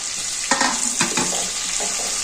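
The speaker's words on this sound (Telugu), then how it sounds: "పచ్చిమిర్చి, కరివేపాకు, కొత్తిమీర అన్నీ నూనె వేయించుకోవాలండి." Green chillies, curry leaves and coriander frying in oil, giving a soft, even sizzle close by, with a few stirring scrapes and sputters.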